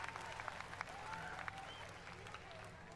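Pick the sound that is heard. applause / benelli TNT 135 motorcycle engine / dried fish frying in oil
applause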